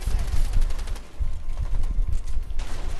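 Rapid gunfire in the video game A Way Out, dense bursts of shots rattling continuously and loudly for a few seconds.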